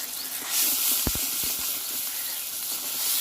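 Ginger, garlic and cumin paste hits a hot pan with spices, producing a loud, steady steam-like hiss close by, with a few quick soft knocks of a utensil early on.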